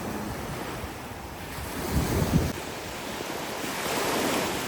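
Steady South China Sea surf washing ashore on Sao Beach, Phu Quoc, a continuous broad roar with a swell building midway, wind buffeting the microphone.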